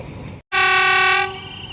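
A train departs Bang Sue station in Thailand with one loud, sustained horn blast after a brief silence. The blast fades into low station ambience with no talk.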